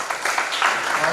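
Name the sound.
audience applause for the cabinets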